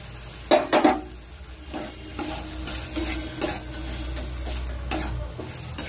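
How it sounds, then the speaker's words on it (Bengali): Prawns hit hot spiced oil in a pan with a couple of sharp sizzling bursts up front, then settle into a steady fry broken by scraping stirs of a spoon against the pot, close and moderately loud. "কষানো হয়ে গেছে, দেখুন তেল ছাড়ছে। এবার আমি এই মাছগুলো দিয়ে দিলাম।"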